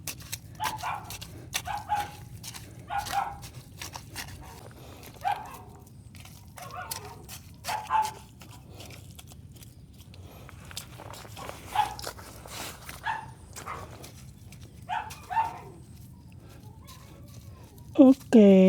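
Two farm dogs bark in short, repeated bursts and whimper while waiting to be fed, the yaps spaced every second or two at moderate distance, with a person talking throughout and a louder clatter at the very end.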